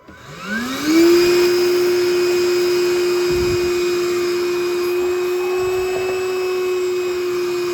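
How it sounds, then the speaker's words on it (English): A cordless wet and dry shop vacuum switches on, its motor whining up to speed within a second, then runs at a loud, steady, close-up drone to the end. "This is a dry and wet vacuum."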